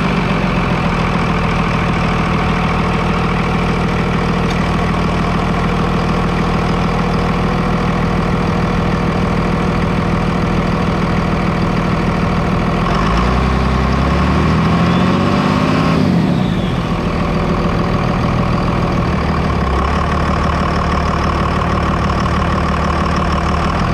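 Cummins 5.9 diesel engine with the stock turbo's silencer ring removed, idling loud and steady up close, a deep rumble with a clattery edge and a brief rising-and-falling swell midway.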